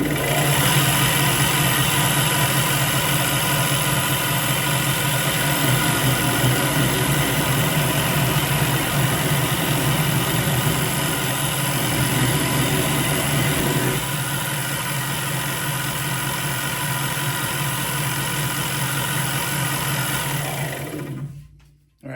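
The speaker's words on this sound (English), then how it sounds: "then I'll finish it off with my palm sander" Palm sander running steadily as it bevels the edges of a hog splitter's wooden handle during restoration, a loud continuous motorized buzz that eases slightly partway through and cuts off at the end.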